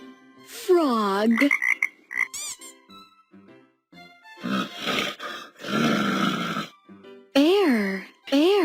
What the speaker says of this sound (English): Frog.